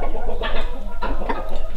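A Lachshuhn, a German chicken breed, clucking in a poultry house, a few close, fairly loud clucks and throaty notes over a constant low hum.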